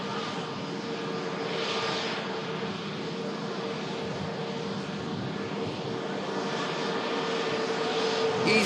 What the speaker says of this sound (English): EasyJet just arriving in from Malta.